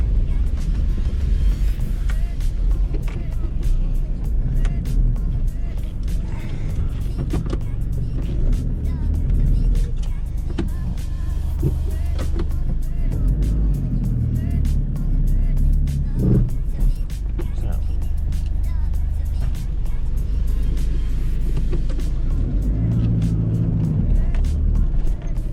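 A Mitsubishi Delica L300 4x4 turbo diesel makes a slow U-turn off road, its engine a steady low rumble throughout with bumps and rattles, while a person talks over it.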